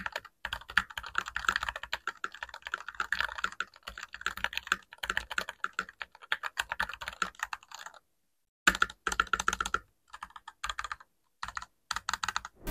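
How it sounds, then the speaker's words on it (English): Typing on a DustSilver D66 wireless mechanical keyboard with hot-swappable switches, a fast run of close clicky keystrokes in irregular bursts with brief silent gaps, no voices. "Let's do a quick typing test."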